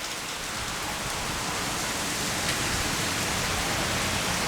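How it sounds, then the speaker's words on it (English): Rain falls steadily outdoors in Jordan on a wet, windy day, a dense even hiss of drops with no break or talking throughout. "It looks like fog, but it's actually rain."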